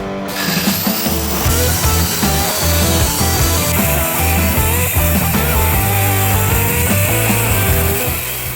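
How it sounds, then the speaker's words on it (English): A power saw cuts metal stock destined for a Japanese-style chisel, a loud, continuous grinding whine that runs unbroken throughout. "it was time to start cutting our stock, which Joe eloquently put was going to be dirty, smelly, noisy, but necessary"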